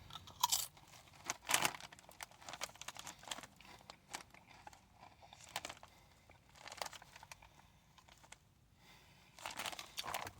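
Lay's Crispy Taco potato chips are crunched and chewed close up, with sharp brittle bites followed by quieter, irregular munching in bursts and no talking.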